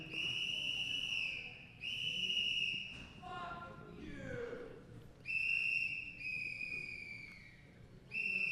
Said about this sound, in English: Mr. Herman, stop whistling.